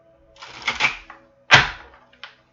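A thick woven deck of cards shuffled by hand: a riffling burst, then a louder sharp riffle, and a small final tap, close and clear.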